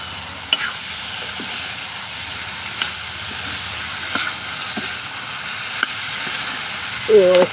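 A ladle stirs a fish-head chorchori, sweetened with a little sugar, in a pan, under a steady low sizzle with a few soft scraping knocks spaced through it.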